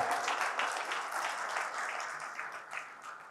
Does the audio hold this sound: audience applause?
yes